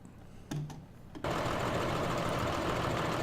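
A tractor engine in Farming Simulator 15 starts up after a brief quiet stretch, then settles into a loud, steady, rumbling drone with a mechanical chatter that holds for the rest of the clip.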